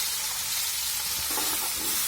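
Ground masala paste sautéing in hot oil with a cumin and mustard tempering gives a steady, close broadband sizzle throughout, with soft stirring scrapes joining in the second half.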